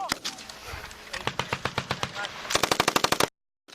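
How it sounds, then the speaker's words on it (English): A tripod-mounted machine gun fires rapid bursts during a military exercise at Schofield Barracks, Hawaii, with evenly spaced loud shots that quicken into a tight burst before cutting to silence, while voices shout underneath. "Rapid fire"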